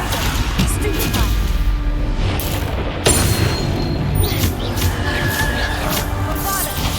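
Repeated Bombarda explosion spells thunder through a Hogwarts Legacy battle, heavy booms layered over dense, continuous combat noise with a sharp blast near the middle.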